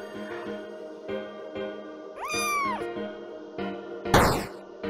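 One drawn-out cat meow rises and falls midway over steady musical tones, followed shortly by a brief, harsh noisy burst.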